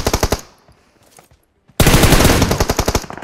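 AK rifle fire in PUBG Mobile, loud rapid bursts of automatic shots close by, one burst, a brief pause, then a longer sustained volley.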